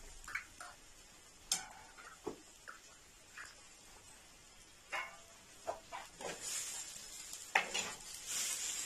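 Tagine ingredients with mussels and turnip being stirred in a pot, giving faint scattered clinks and scrapes with soft sizzling underneath, irregular and close.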